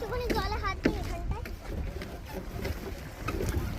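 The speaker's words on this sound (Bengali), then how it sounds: "এবার যাচ্ছি, আবার বোটে করে ওপার যেতে হবে।" A boat crosses open water between islands near Port Blair in the Andaman Islands, its engine a steady broad rumble with wind buffeting the microphone and people talking over it throughout.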